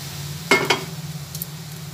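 A utensil stirs pointed gourd and potato in a frying pan over a low sizzle, with two quick scraping knocks close together early on and a fainter one later.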